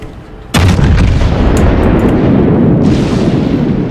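Yamato battleship main guns fire in World of Warships: one huge sudden boom that then rolls on as a sustained heavy rumble, with crackling bursts over it and another blast near the end.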